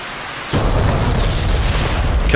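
A Laser Maverick missile striking its target in the DCS AV-8B flight simulator, a sudden loud boom that cuts in after a quiet moment and rolls on as a heavy rumbling blast.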